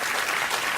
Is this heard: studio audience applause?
yes